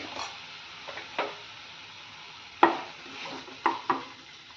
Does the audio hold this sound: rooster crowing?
no